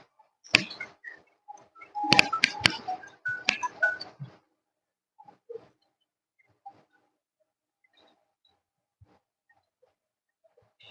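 Telephone dialing tones come as a quick cluster of short beeps and clicks early on, followed by a few sparse isolated tones fading into near silence.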